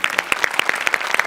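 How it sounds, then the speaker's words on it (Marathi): A comedy show audience claps in quick, evenly spaced bursts, bright and close, a short run of sharp rhythmic applause with no talk over it. "एकदा जोरदार टाळ्या ह्यासाठी."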